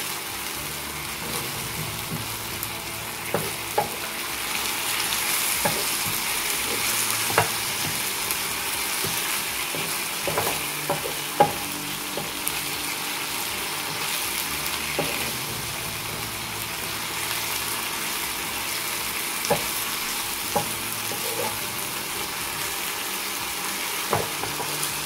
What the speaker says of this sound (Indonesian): Kita aduk-aduk sebentar, karena ini cepat matang